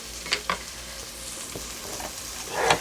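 Vegetables stir-frying in a pan for homemade jjajang sauce, a soft steady sizzle underneath a few light scraping and tapping knocks of a utensil against the pan, close and fairly quiet.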